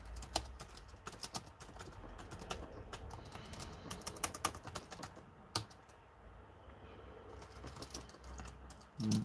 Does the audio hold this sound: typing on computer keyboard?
yes